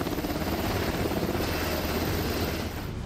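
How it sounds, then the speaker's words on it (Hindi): A Black Hawk helicopter sets special forces down near the surf, its rotor wash a loud, steady broadband roar with a low thumping pulse, close and continuous throughout. "इसके बाद ब्लैक हॉक हेलीकॉप्टर भी स्पेशल फोर्स को लहरों के पास उतारता है।"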